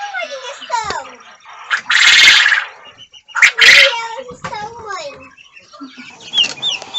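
Young guinea fowl keets peep and chirp in quick, high, sliding calls while pecking at growing-stage feed on a small farm, close and clear, broken by louder rustling bursts, with a person speaking between the calls.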